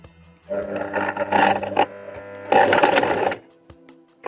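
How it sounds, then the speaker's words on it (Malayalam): A sewing machine stitches fabric slowly with the presser foot lowered, sewing a side slit. It runs in two steady motor bursts with a pause between, stops, and there is no talk. "പ്രഷർ ഫൂട്ട് താഴ്ത്തി മെല്ലെ സ്റ്റിച്ച് ചെയ്ത് ഇവിടെ വെച്ച് നിർത്തുക"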